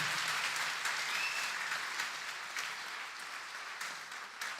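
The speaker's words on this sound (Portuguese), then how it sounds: "Não, pode aplaudir, pode aplaudir, pode aplaudir." A church congregation claps steadily through a sermon, a dense wash of applause at an even level that tapers slightly toward the end, with no clear voices over it.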